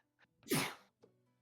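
A single sharp sneeze, close and sudden, preceded by a faint intake of breath and followed by a quiet sniff.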